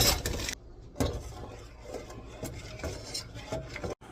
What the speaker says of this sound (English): I'm just going to bring it back up to a boil and mash it all up